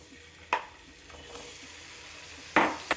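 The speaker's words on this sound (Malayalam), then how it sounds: "പാൻ അടുപ്പത്ത് വെച്ച് അതിലേക്ക് 1 ടേബിൾ സ്പൂൺ ബട്ടർ ചൂടായ ശേഷം അതിലേക്ക് പ്രോൺസ് ചേർത്ത് കൊടുക്കാം" Prawns frying in a tablespoon of hot butter in a pan on the stove give a faint, steady sizzle, broken by a few sharp utensil knocks against the pan.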